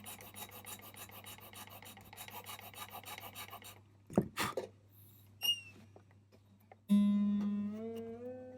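A file rasps steadily at the nut slot of an acoustic guitar, close and continuous for several seconds. Then comes a brief scrape and a few clicks, and the session ends with a sustained ringing guitar string.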